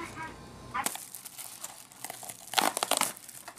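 Crinkling plastic bag wrapped around a frozen microwave meal from a vending machine, handled up close in uneven bursts of rustling and crackling after a brief quiet start.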